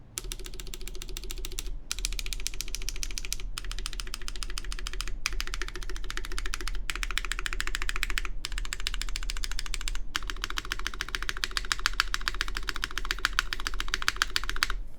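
Continuous typing on a Baron Boards BP One mechanical keyboard with softer mounting, a dense steady run of clacky keystrokes close to the mic with a few brief pauses, no talking.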